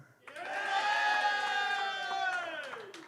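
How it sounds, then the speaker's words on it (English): A studio audience at a rugby league lounge show cheers, whoops and shouts for a contestant, a loud, sustained burst of crowd noise rising quickly and holding steady for a few seconds. "Round of applause and make some noise if you feel we should give it here."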